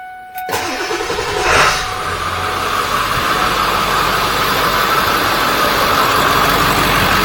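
A car engine cranks briefly and catches, then settles into a loud, steady idle that continues close by without talk.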